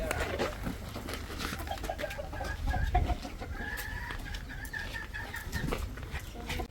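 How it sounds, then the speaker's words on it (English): Four hens and a rooster clucking in a backyard fowl run, a steady busy chatter of close clucks with sharper calls, including a brief crowing-like cry near the middle, continuing throughout. "So in this fowl run, I have 4 hens and 1 rooster."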